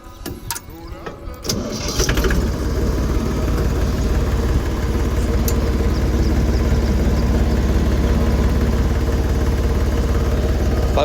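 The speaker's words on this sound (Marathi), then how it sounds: "आपण लगेच ट्रॅक्टर चालू करतो आता" A farm tractor engine cranks and catches after a few seconds of quiet handling sounds, then settles into a loud, steady, close idle rumble that runs on without a break.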